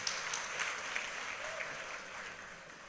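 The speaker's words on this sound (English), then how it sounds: "Give me a round of applause." Banquet guests applaud steadily at a state banquet in honour of a president-elect, a soft, even wash of clapping that fades slightly toward the end.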